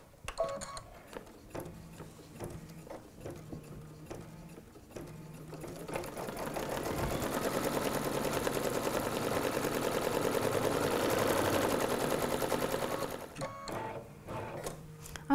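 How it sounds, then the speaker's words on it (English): An embroidery sewing machine runs a placement stitch with a rapid mechanical whir that builds into a steady, loud run for several seconds, framed by quieter clicks and short stitching bursts, close up with no talk. "So I'm just going to thread the machine. And run the next placement stitch."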